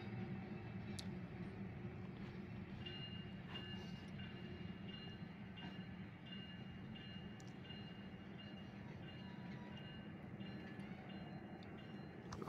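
A Union freight train hauling gondola cars rolls past, a continuous heavy rumble with rattling wheel and car noise that holds steady throughout, and no one speaking.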